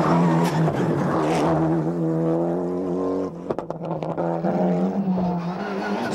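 Mitsubishi rally car on tarmac at the 1995 Corsica Rally, engine loud and close as it revs hard through the gears, with sharp pops and crackles on the lift-off before accelerating away again.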